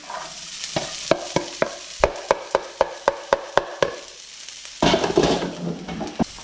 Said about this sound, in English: Stir it around a little bit. Sweat these onions out.